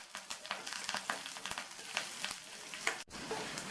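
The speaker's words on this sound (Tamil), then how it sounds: "அது கூட கொஞ்சமாக கறிவேப்பிலை, புளி, ஒரு சின்ன நெல்லிக்காய் சைஸ் அளவு புளியையும் சேர்த்து வதக்கிக்கலாம்." Curry leaves and a small lump of tamarind sautéing in a hot pan for chutney, a continuous crackling sizzle with scattered pops and stirring scrapes, close and steady, briefly cut off near the end.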